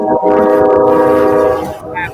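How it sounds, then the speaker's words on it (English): A train's horn sounds in long, loud, sustained blasts with a steady harmonic tone, fading near the end, heard in a city setting with rail traffic nearby. "Excuse that train."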